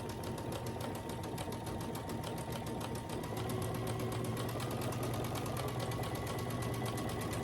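A sewing machine stitches quilt pieces for a scrappy star quilt, sewing a quarter-inch seam along a marked line with a steady, rapid, continuous mechanical whir close up, running alone throughout.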